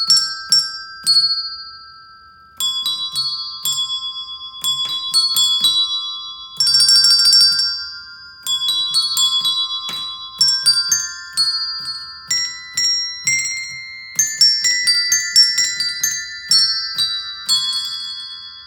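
Colour-coded diatonic handbells playing a simple melody, clear bright metallic tones struck one after another with ringing decays, occasionally overlapping into small clusters, close and alone without voices.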